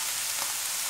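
Shredded cabbage with carrot and bell pepper in a hot frying pan gives a steady, close, even sizzle with no pauses or voices.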